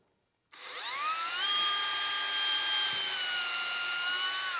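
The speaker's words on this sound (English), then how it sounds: "We're going to drill a small little pilot hole" A power drill spins up with a rising whine, then holds a steady high-pitched tone as it bores a small pilot hole through an MDF spoilboard on a CNC machine.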